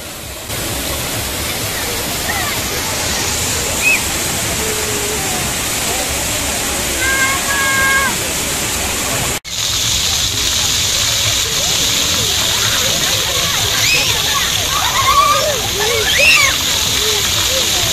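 Water rushes and splashes steadily and fairly loudly during a drive toward Sochi, a constant wash that runs through the clip with a brief dip midway.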